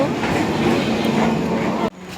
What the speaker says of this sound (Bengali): ট্রেন ঢুকে গেল।